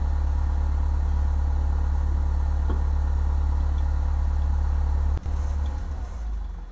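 A small aircraft engine idles in a flight simulator game at Lukla, Nepal, a steady loud drone with a faint clatter, ending in a sharp click and a dip in level.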